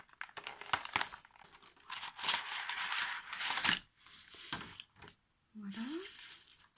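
A DIY dreamcatcher kit package from the Action store is torn open by hand, with close crinkling plastic, tearing and rustling in bursts, plus a short vocal sound near the end.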